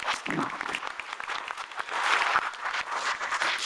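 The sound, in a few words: audience applause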